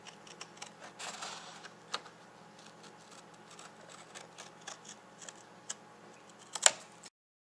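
Scissors snipping paper while making a mandala, faint scattered crisp snips and rustles at a close distance, with a sharper cluster of cuts near the end before silence.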